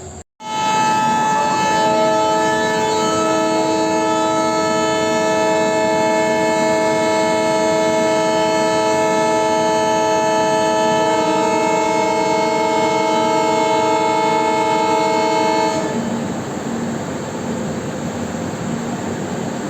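A diesel locomotive, likely a WDP-4, sounds a loud, sustained horn near the track for about fifteen seconds before cutting off and leaving a low railway rumble.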